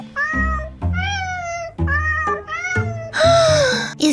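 Cartoon cat meowing in an animated children's show, several drawn-out, pitched meows in a row, close and loud, ending in a brighter, strained cry.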